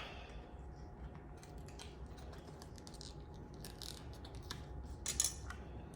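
Quiet plastic clicks and crinkles from a brand-new container of onion powder being opened, with a brief sharper snap near the end and no talking.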